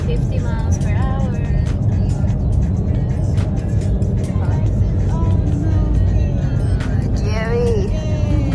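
A car cruises at about 50 mph along a snowy road during a Texas snowstorm, giving a steady, loud rumble of engine and tire noise with no letup, while people talk over it inside the car.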